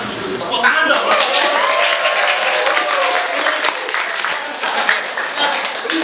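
Lively applause fills a podcast studio after a school principal's story, with dense, close clapping sustained for several seconds and voices talking and reacting over it.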